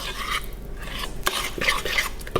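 A spoon stirs vegan jalapeno cornbread muffin batter in a bowl, giving close wet scraping and scooping strokes with a few light clinks against the side.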